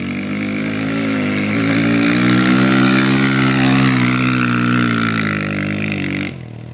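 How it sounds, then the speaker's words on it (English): A vehicle cruising through a deeply muddy yard after rain, its engine droning steadily and loudly with a rough, sputtering edge as mud sprays, then cutting off abruptly near the end. "it is so muddy that when he is just cruising, it's spitting mud."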